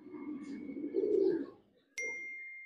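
Fancy pigeons in a loft give a soft, low cooing phrase up close, followed by a sharp metallic ding that rings on afterward.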